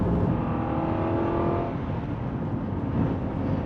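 An Aston Martin V8 Vantage 4.7 engine pulls through the gears with short shifts, a steady, close, throaty drone whose pitch drops at one gear change partway through, heard from inside the car.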